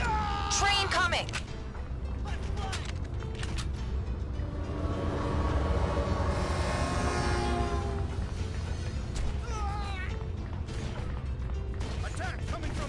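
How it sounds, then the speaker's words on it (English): A train approaches in the video game Red Faction II, its rumbling and mechanical rattle building to a dense roar in the middle with clanks and creaks, while a voice speaks over it at times. "Train coming"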